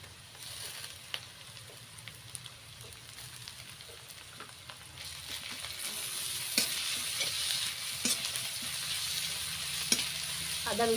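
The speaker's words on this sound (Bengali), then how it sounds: "আদা রসুনটাকে একটু তেলে ভেজে নিতে হবে" Ginger and garlic paste sizzles steadily in hot oil, a soft continuous crackle that grows a little louder midway, with occasional stirring scrapes and no talking.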